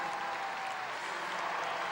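A hometown stadium crowd at the 2006 Commonwealth Games women's marathon applauds a finishing runner, a steady roar of clapping and cheering that stays loud and even throughout, heard from amid the stands.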